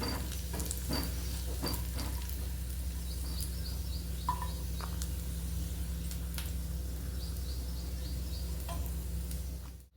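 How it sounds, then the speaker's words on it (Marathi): Dry fruits frying in oil in a pan over a low gas flame give a steady, soft sizzle that runs unbroken for about ten seconds, with a few faint clicks and chirps on top and nobody speaking. "आपल्याला क्रिस्पी होईपर्यंत छान तळून घ्यायचं आहे"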